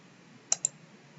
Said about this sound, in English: we click on the cofactor button